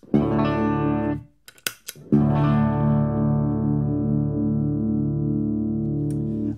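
Electric guitar through an M75 Super Badass distortion pedal with three-band EQ: a thick, sustained distorted chord rings out, cuts off for a few brief muted scratches, then a second long distorted chord sustains to the end.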